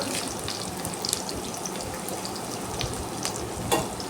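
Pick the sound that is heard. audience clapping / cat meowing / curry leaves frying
curry leaves frying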